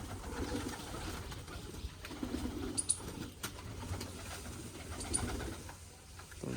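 Pigeons gather on the ground to peck at scattered grain, giving faint low cooing with soft flutters and a few sharp chirps over quiet outdoor ambience.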